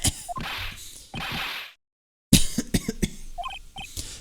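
A character coughs in the Phoenix Wright: Ace Attorney Trials and Tribulations video game: two rough cough bursts, then a short silence followed by quick clicking text blips.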